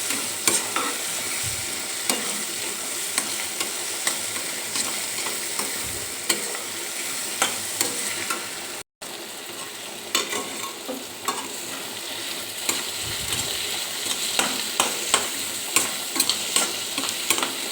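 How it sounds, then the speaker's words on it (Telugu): Ridge gourd curry frying with chili powder in a pan, a steady close sizzle with frequent scraping stirs and occasional soft knocks of the spatula throughout, no voices. "కారం వేసుకొని అది పచ్చివాసన పోయే వరకు వేపుకుందాం"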